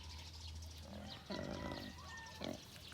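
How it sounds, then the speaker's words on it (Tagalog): Young piglets in a farm pen give short squeals and grunts, a few bursts rising over a steady low hum of background noise, with no talking. "ang mga natira po dito ay yung mga iniwan nating medyo maliliit pang mga biik"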